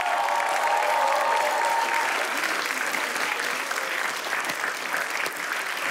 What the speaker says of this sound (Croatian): publika će to potvrditi pljeskom